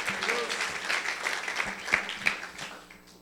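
Applause from a church congregation during a Spanish-language service, a steady patter of many hands with a few louder claps standing out, and voices faintly audible underneath.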